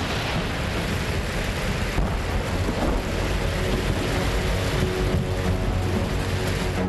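A heavy cloudburst-like downpour pounds steadily in Latur district, a dense unbroken roar of rain with low rumbles underneath, loud and close, without voices.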